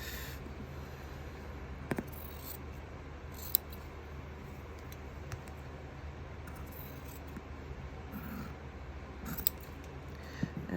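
Scissors cut out a fabric piece for an English paper piecing Tumbling Cosmos quilt, with faint scattered clicks and snips spread over a quiet room hum and no voices.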